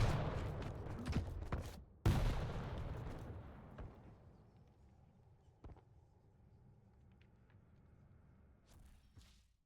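Rocket launcher blasts and explosions in the arena shooter Quake Champions during a competitive grand final match, a dense burst of booming impacts up front that fades into sparse, fainter shots and distant pops.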